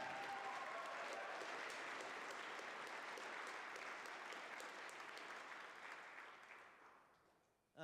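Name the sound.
audience applause for TJ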